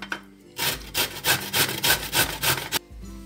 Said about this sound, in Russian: свеклу, она у нас сырая, мы ее не отваривали, просто очистили, и мы ее будем тереть на крупной терке